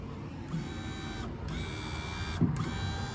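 A new replacement window regulator motor from a Chevy G10 van runs steadily with a close, even electric whine, pausing briefly twice, with a faint knock near the end.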